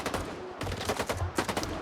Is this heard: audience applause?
no